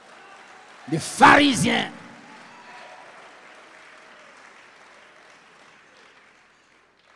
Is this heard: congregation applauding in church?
yes